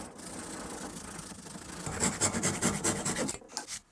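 A hand saw cuts through a thick wooden block, its rasping strokes turning louder and more rhythmic partway through, then breaking off just before the end.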